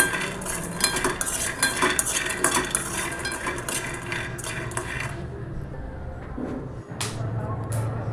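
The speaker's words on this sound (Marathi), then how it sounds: "आता एका पातेल्यात शेंगदाणे भाजत ठेवलेले आहेत" Peanuts roasting in a metal pot are stirred with a spoon, giving steady scraping and clinking with rattling nuts for several seconds, then a brief lull and a few more scrapes.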